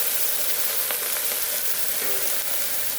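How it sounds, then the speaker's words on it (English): Okra stir-fries in hot oil in a wok, producing a dense, continuous loud sizzle with faint stirring clicks, close up and without any voices. "So now we're going to throw the okra in. And we're going to stir fry."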